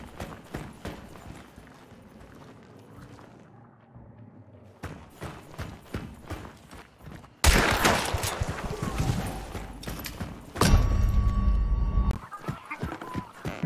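Gunfire from Hunt: Showdown, loud sharp shots bursting in around the middle and again near the end over busy game sounds with horse hooves clip-clopping, no talk.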